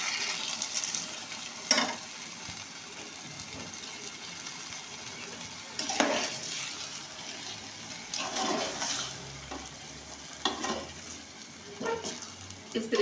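Vermicelli being stirred in a pan while cooking: soft scraping and sizzling with a few louder spatula strokes against the pan, quiet and close.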